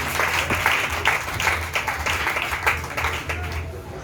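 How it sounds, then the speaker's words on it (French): A church congregation applauding steadily, a dense crowd of clapping hands filling the room, with a voice speaking over the applause. "Acclamez,"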